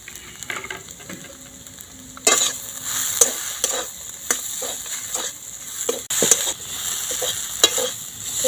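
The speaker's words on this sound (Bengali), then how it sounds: "ভালো করে নাড়াচাড়া করে নিচ্ছি মশলা আর আলুটা" Spices and potato filling for pointed gourd chops being stirred in a frying pan: a steady sizzle with repeated sharp scrapes of the spatula against the pan, louder bursts when the mixture is turned, no talking.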